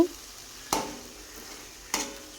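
Banana flower manchurian mixture stirred in a pan over a soft, constant background sizzle, with two distinct scraping knocks of the spoon roughly a second apart, close and without talk.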